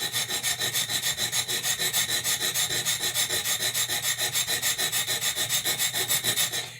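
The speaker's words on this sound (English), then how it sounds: "you need to start sharpening in front of where that round portion is, not into it and past it" An 8-inch chef knife blade is worked against a sharpening stone in fast, even back-and-forth strokes, close and steady for several seconds, with no talk.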